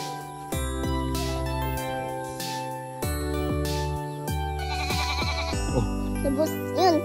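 A goat bleats repeatedly in short wavering calls at a rural countryside home, loud and close, with a faint jingling sound near the end.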